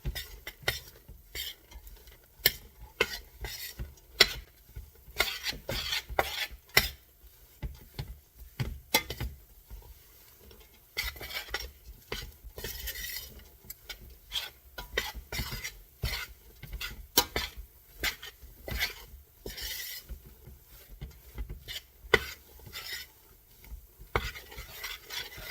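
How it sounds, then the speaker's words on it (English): Melting marshmallows and butter stirred in a pot for dark chocolate Rice Krispies treats, a spoon scraping and clinking against the pot in quick, irregular strokes, close and fairly quiet with no talk. "when you're stirring it up, make sure that you're getting the butter on all the marshmallows"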